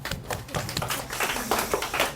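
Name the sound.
applause from students in a classroom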